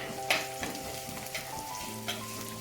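Shallots, garlic and ginger fry in a pan for Kerala-style fish curry, a low sizzle with a few sharp clicks and scrapes of a spoon stirring, near and fairly quiet, with no voices.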